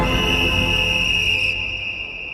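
In an anime tournament, a referee's whistle gives one steady, shrill, sustained blast over a dense, busy background, fading slightly toward the end.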